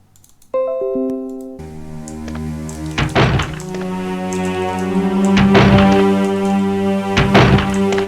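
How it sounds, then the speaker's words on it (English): In the Resident Evil video game, a door transition plays as a sharp thunk followed by a sustained tonal drone, with repeated heavy knocks ringing over it for several seconds. "the door transition is actually instant, or way faster than it was before"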